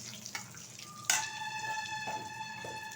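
Bay leaf and whole cumin seeds dropped into hot oil in a pan, giving a sudden burst of sizzling that settles into a steady, close frying hiss for a few seconds.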